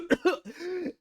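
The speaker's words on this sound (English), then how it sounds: "I'm supposed to cough." A short burst of coughing, two quick hacks followed by a longer raspy throat-clearing sound, close and clear.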